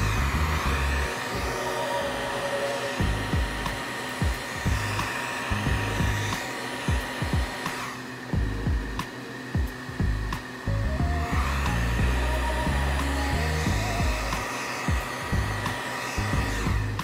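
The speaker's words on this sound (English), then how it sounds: "those bubbles using our heat gun on the medium setting is usually what I do" A heat gun on its medium setting blows a steady, loud airy roar over resin in a tray to pop bubbles, dipping briefly midway before resuming, with a few soft clicks and bumps underneath.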